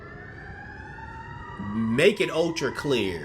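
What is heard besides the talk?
sirens approaching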